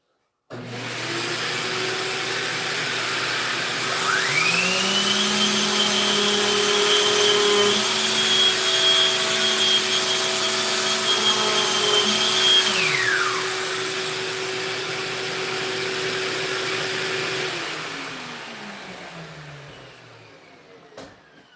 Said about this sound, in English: we'll just sand it so it fits nice